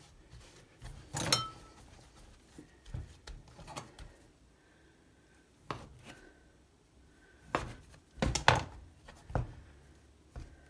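A knife cuts vegan ravioli dough into three pieces on a kitchen board, producing soft, scattered taps and chops at close range, with quiet handling noise between the cuts.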